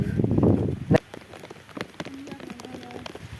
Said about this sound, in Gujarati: અમારા ગામ બાજુ વરસાદ પડે રહ્યો, હવે દેખાઈ રહ્યો